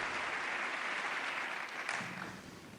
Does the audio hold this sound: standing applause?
yes